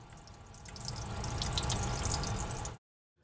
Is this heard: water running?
yes